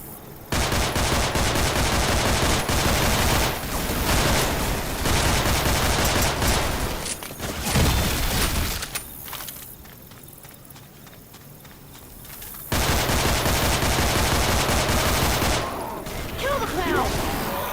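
Dense, sustained shotgun fire in Left 4 Dead 2, loud blasts repeating through most of the stretch, dropping to a quieter lull in the middle before the barrage resumes, with game noise and a voice underneath.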